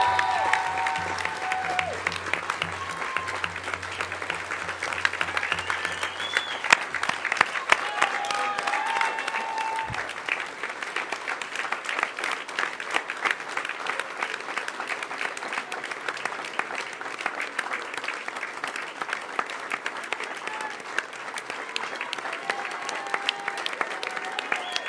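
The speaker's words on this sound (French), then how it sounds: "J'aimerais qu'on applaudisse notre doudoune national, Daniel Valero" Audience applause at a municipal council inauguration meeting, sustained steady clapping from a room of people lasting throughout, fairly close and even in intensity.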